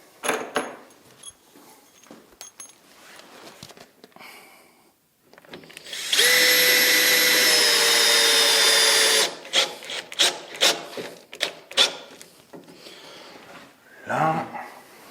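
A power drill drives a screw into a wooden batten on a workbench. It gives a loud, steady whining run of about three seconds, surrounded by quieter handling knocks and scrapes, with some speech nearby.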